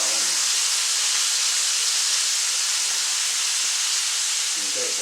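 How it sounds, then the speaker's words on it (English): Breaded squirrel pieces fry in a hot pan, a loud, dense, unbroken sizzle and hiss running steadily from start to finish, close and with no talking. "Keep it sizzling now."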